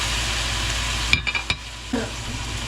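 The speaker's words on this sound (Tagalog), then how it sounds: "gigisa ko na itong sibuyas at ang aking kamatis. Ito ihalo ko na itong aking pork." Onion and tomato sautéing with pork in a pan for pork ribs kaldereta: a steady close sizzle, broken by a few sharp clinks and scrapes from stirring near the middle.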